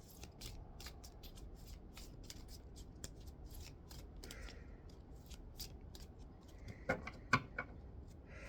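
A deck of cards is shuffled quietly in a room, giving a soft, continuous riffling and flicking with a few sharper snaps near the end, faint and unaccompanied by speech.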